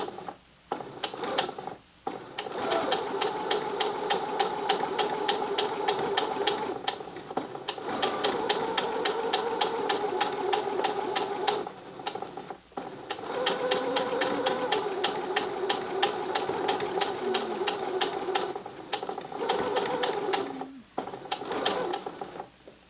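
Sewing machine stitching along the edge of a fabric hot pad, long loud runs of rapid mechanical clatter broken by brief stops, close up and without talk.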